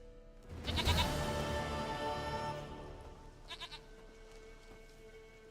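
A goat bleats in The Witcher 3 video game, one loud, close, wavering bleat followed by a softer, shorter one a few seconds later, with quiet ambient game sound underneath.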